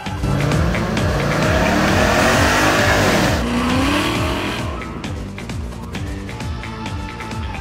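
A Ford Mustang roars hard through its gears in a 0 to 100 acceleration run, its loud engine note rising and climbing in pitch with a brief tire squeal, then easing off as it pulls away.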